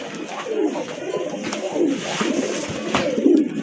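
Large pigeons, offered as a pair for sale, cooing in repeated soft, throaty rolling calls close by, with faint background noise and no talk.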